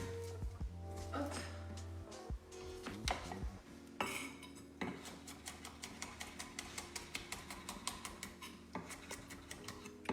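A kitchen knife chopping crushed garlic cloves on a cutting board, a brisk run of close, sharp taps that speeds into a steady rhythm, with some clinking of utensils early on.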